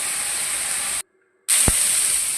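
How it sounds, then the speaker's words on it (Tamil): Bitter gourd fries in sesame oil in a pan with a loud, steady, close sizzling hiss. The hiss cuts out for a moment and then resumes just as strongly. "இப்போ வந்து பாவக்காயை நல்லா ஃப்ரை பண்ணி எடுத்துக்கலாம்."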